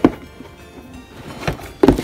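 An atomic power popper toy gun is pumped and fired, giving a couple of sharp hollow pops with a soft plastic rattle between them, close and fairly loud.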